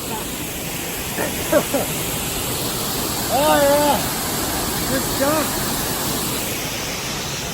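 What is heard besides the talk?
massive waterfall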